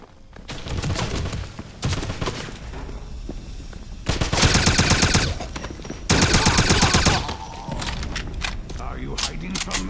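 Machine gun fire in the shooter game Wolfenstein, with loud sustained automatic bursts of rapid rattling shots, two long volleys standing out amid scattered shots and battle noise, while voices shout over the fighting.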